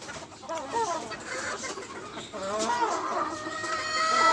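Gamefowl roosters of a gray over gold bloodline cluck and call continuously at moderate distance, with overlapping birds and a busy yard backdrop that grows slightly louder toward the end.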